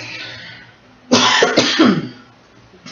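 A woman gives a few short, harsh coughs in a quiet indoor room, close and loud, irritated by a nearby fan, then goes quiet.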